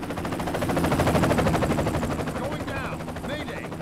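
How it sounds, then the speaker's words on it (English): Helicopters flying in the BloodRayne 2 video game, a loud rhythmic rotor chop pulsing steadily, with gunfire-like bursts and game sound effects mixed in. "Look at that. Legitimate helicopters."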